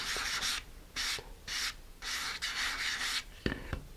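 Hand sanding a thin-walled surface: about six rhythmic rubbing strokes, close and fairly quiet, then a couple of light taps at the end.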